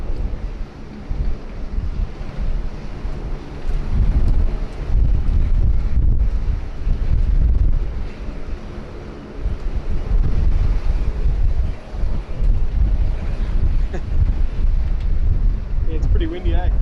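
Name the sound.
wind blowing into the microphone at an airport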